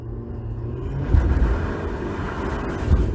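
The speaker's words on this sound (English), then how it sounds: "That spun tires for sure." A 2020 Ford F-250 Tremor pickup is floored with traction control off, its tires spinning, and a loud, close, low engine roar swells and holds throughout.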